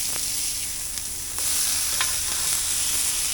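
Frozen burger patties hiss and sizzle steadily on a hot griddle, a loud continuous fry that swells slightly as a spatula flips one patty, with a couple of faint scrapes and taps and no talking.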